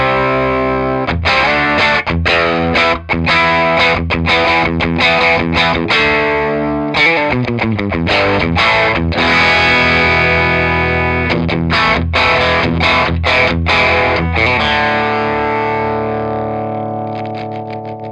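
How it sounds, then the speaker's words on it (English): Schecter Nick Johnston PT electric guitar on the bridge pickup with a distorted tone, playing loud, fast picked riffs and chugging chords with a chorus-like shimmer, ringing out into a sustained fade at the end. "Awesome sounding guitar. Modern, very Yeah. modern sound."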